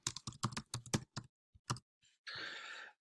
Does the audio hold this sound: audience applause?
no